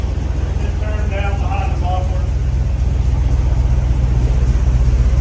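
A 1950 GMC truck engine swapped onto an S10 frame with newly fitted exhaust runs at a steady idle, a constant low rumble filling the clip, with a voice speaking briefly near the start.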